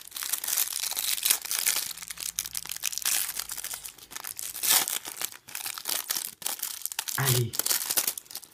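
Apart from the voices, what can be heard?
opening foil card booster packs from a Duel Devastator box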